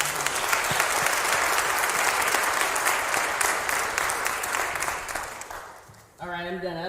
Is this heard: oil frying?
no